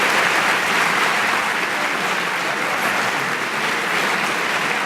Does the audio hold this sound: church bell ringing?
no